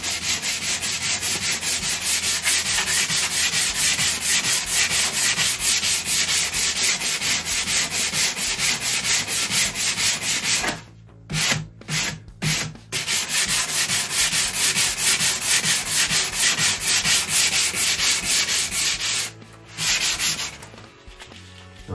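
Continuous close scraping of 120-grit sandpaper on a foam block rubbing over the wood of a Louis Philippe secretary desk, with a few brief pauses midway and near the end before the strokes resume.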